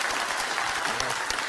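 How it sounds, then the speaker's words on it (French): A brief burst of dense audience applause at a French event, steady and fairly full throughout with no voices on top. "vous pouvez les applaudir, s'il vous plaît"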